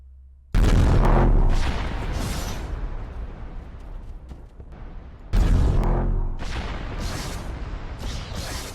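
Plasma blast gun from a Warhammer 40k Titan in ARMA 3 fires twice, each shot a loud close booming blast that rolls out into a long rumbling decay of explosion debris.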